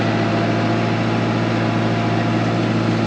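A tractor engine drones steadily while cultivating a potato field, a loud, unbroken low hum with a constant mechanical whine and no talk over it.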